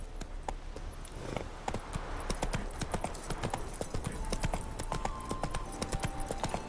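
Roach the horse clip-clops steadily in a brisk, continuous rhythm of hoofbeats during riding in the video game Witcher 3.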